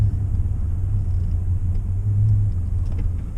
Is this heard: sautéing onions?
no